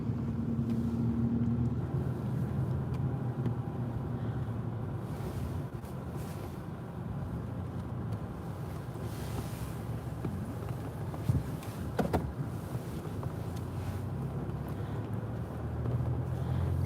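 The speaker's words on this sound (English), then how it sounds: "We just have to turn the car around" A car on the road toward the Eysturoyar tunnel in the Faroe Islands turns around, heard as a steady, moderately loud interior hum of engine and tyres with a brief knock partway through and no talking.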